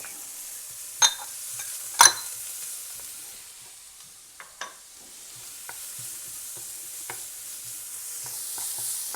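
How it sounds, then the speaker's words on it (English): Onions and garlic sizzle quietly in a pan with occasional utensil knocks and scrapes, two sharper clicks near the start; no speech. "No better smell than frying onions."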